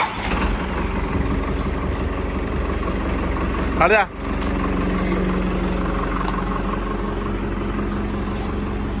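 A steady low engine idles throughout, close and constant, with a brief mechanical whine partway and a short spoken sound.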